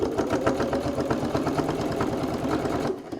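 A sewing machine back-stitches a fabric wallet seam, running in a rapid, even mechanical rattle of needle strokes close by before stopping abruptly at the end.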